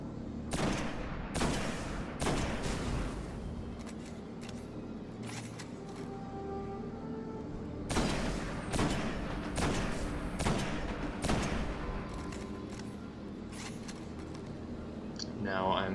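Repeated gunfire in the Destiny Nightfall Nexus mission, aimed at Minotaurs: sharp bursts and single shots come in irregular clusters over steady game ambience, with quieter stretches between volleys.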